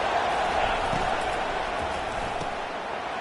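A football game crowd roars steadily in the stands, a broad, continuous wash of noise with a voice faintly mixed in.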